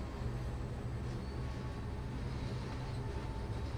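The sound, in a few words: Class 66 diesel locomotive running, Train Sim World video game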